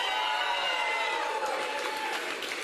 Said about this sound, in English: I just want to hear y'all cheer